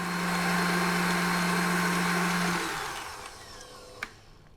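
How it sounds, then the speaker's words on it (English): An electric mixer creams butter and brown sugar for gingerbread cookie dough, a loud steady whirring drone that runs for a few seconds, then winds down and fades, followed by a brief clink near the end. "we're just gonna mix our butter and brown sugar until it's really nice and creamy together"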